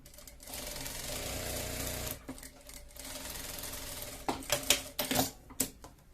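Sewing machine stitching fabric pieces of a face mask: a steady whirring run of stitching, a short pause, then further bursts of stitching ending in sharp clicking and clattering, close and clear, without talk.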